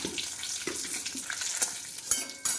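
Dry red chillies and bay leaves sizzle and crackle in hot oil in a pan, a close, continuous frying hiss broken by a few stirring scrapes.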